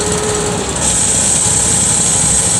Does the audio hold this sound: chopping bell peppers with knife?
no